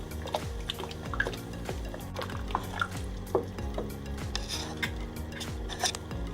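Egg replacer being whisked in a bowl for a vegan Christmas cake, a fast steady run of close clicking, scraping strokes, fairly quiet and continuous.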